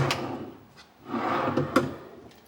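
Hotel room drawers at Disney's Contemporary Resort slide open and shut close by, giving two wooden rolling scrapes with a soft knock between them. No voices.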